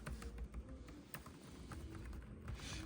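An Asus Vivobook X1504ZA laptop with quiet keys is typed on steadily, soft rapid taps close by at low volume over a faint background hiss.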